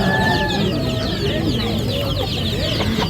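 A flock of chickens clucking and murmuring continuously close by, dense overlapping calls with faint voices in the background.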